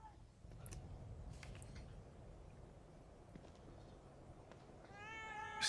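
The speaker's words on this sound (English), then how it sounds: "Kitty! Hi, Kitty" A cat meows in the horror video game The Evil Within 2. Several short meows stand out over a steady low background, and a brighter cry rises near the end.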